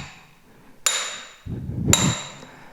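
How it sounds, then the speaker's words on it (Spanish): A hammer strikes nails as a crucifixion sound effect: two sharp, ringing metallic blows about a second apart, close and loud, with a low rumble between them and no speech. "tomando clavo y un martillo, extendieron una mano y empezaron a clavarlo"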